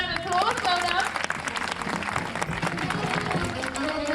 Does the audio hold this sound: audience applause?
yes